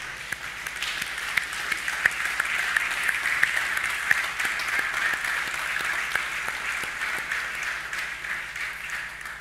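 A church congregation applauding together, a sustained, full wash of clapping that stays steady and loud throughout.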